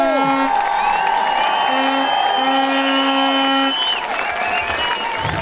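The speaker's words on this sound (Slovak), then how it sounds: "Obrovský potlesk pre ňo!" A crowd applauds at a boxing event in Poltár for the local fighter, the clapping steady and loud throughout, with a sustained musical tone and an announcer's voice ringing over it.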